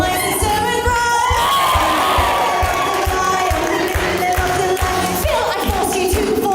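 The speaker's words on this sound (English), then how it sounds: "Everybody give a cheer for my sister and brother." Wedding guests cheering for a sister and brother, a loud crowd of whoops and shouts layered over steady rhythmic music with a thumping beat throughout.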